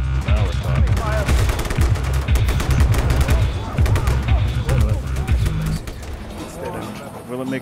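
Loud, dense volleys of gunfire from the Just Cause 3 video game rattle in rapid overlapping bursts, mixed with other game sounds, before tapering off near the end.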